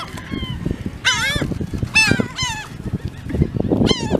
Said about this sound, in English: Tiffany, just look how many birds.